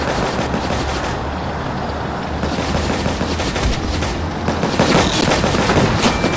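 Cannon fire from a tank in the video game Tank Legion, heard as a loud, continuous barrage of gunfire and booms, dense and close throughout.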